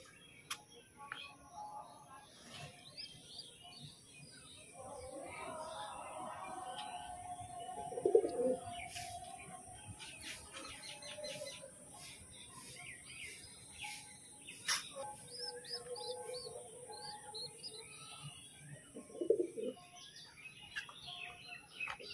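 Pigeons and their chicks at feeding time give low, repeated cooing calls over a faint background chirp of insects. A few louder coos stand out midway and near the end, with no speech.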